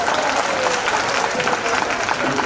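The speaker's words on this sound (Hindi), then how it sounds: "इस बच्चे के लिए पूरा तालियां बजाएं" A crowd applauding for a child at a gathering, dense steady clapping that stays loud and even throughout, with faint voices mixed in.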